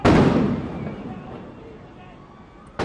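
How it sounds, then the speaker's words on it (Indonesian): Police fire rubber bullets at protesters in the heart of Los Angeles: one sharp, loud bang echoes and fades over about two seconds, and another abrupt shot cuts in at the very end. "Firing rubber bullets at protesters, moving them on through the heart of LA."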